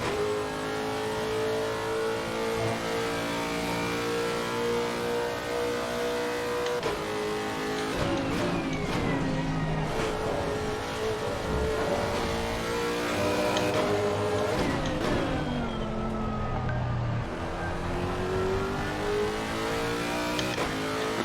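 Lexus race car on the Nürburgring in Assetto Corsa Competizione, its engine revving hard and continuously through the lap with repeated upshifts and downshifts, loud and close, with no voices over it.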